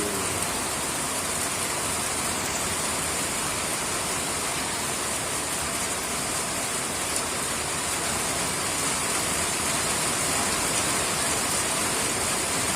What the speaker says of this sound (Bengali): দেখেন বন্ধুরা, কি পরিমাণ বৃষ্টি চলতেছে, প্রচুর পরিমাণ বৃষ্টি।